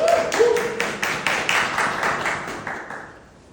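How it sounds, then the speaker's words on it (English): An audience applauding for Grace Ramirez at a Blake for NYC Mayor campaign event, a short burst of rhythmic clapping that fades out after a few seconds. "so let's clap it up for Grace Ramirez, everybody."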